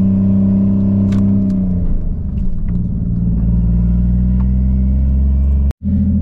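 A 1JZ engine with a custom exhaust idles with a deep, loud, steady drone that rises and wavers briefly in a rev, then cuts off abruptly before picking up again, with no voices.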